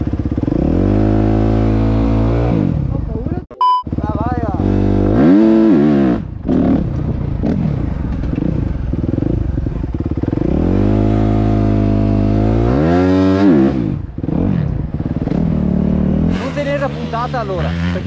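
A motocross bike revs hard for a launch, its loud, close engine climbing in repeated rising surges, then dropping briefly before winding up again.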